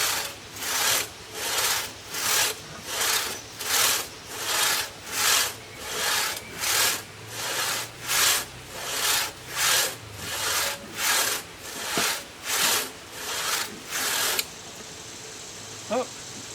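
A hand saw cutting through a hardwood oak log, steady back-and-forth strokes about once per second, a close rasping rhythm of fifteen-odd strokes that stops near the end, leaving quiet background.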